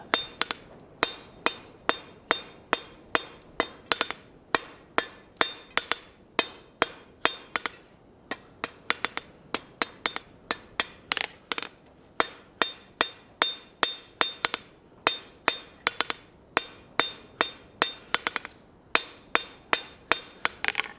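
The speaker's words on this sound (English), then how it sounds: "It also helps if you have a square face hammer for this process." Square face hammer striking hot iron on an anvil while forging an ornate bracket, a long run of sharp ringing blows in quick rhythmic bursts with brief pauses, close and loud.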